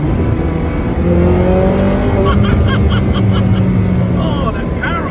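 A Zenvo supercar pulls hard under acceleration, its engine note loud and steady close by with a gradual rising pitch, while someone talks over it throughout.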